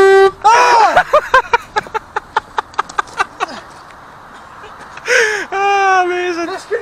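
Car horn wired to the brake pedal as a prank, tooting in a rapid series of short honks, then longer blasts, with people's voices crying out around the honking.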